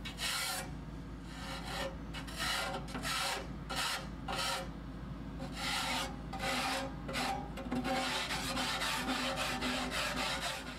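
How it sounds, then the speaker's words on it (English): A putty knife scrapes ash off the metal sides and bottom of a pellet stove's firebox, giving steady, close raspy strokes in a continuous rhythm with brief pauses, and no talking. "You're then going to take the putty knife and start scraping down all the ash off the sides and off the bottom."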